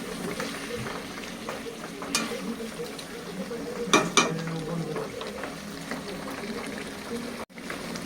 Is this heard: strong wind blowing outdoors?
no